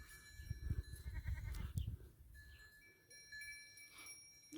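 Sheep on a farm bleat several times close by for about two seconds, then fall quiet, leaving a faint steady tone and light background noise.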